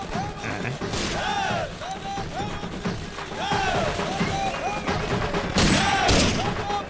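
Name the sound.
celebratory gunfire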